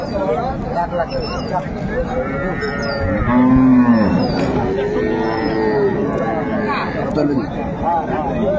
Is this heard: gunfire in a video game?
no